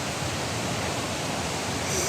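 A waterfall seen on a jungle trek roars as a dense, steady broadband rush, loud and unbroken throughout with no other sounds standing out.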